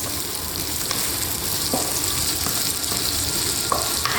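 Chopped spring onion whites sizzle loudly and evenly in a hot pan for pad thai, a dense, close frying hiss with a few faint scrapes of stirring.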